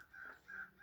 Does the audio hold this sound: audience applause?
no